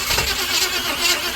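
A 388 stroker engine in a solid-axle-swapped S10 Blazer cranks, a brief loud rhythmic churning with pulsing hits and no catch.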